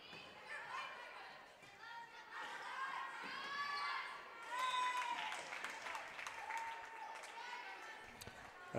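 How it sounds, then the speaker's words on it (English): A big crowd in a gym claps and cheers at a girls varsity volleyball senior night, with shouts, chatter and whistling rising and falling, and a commentator talking over it. "A very big crowd tonight."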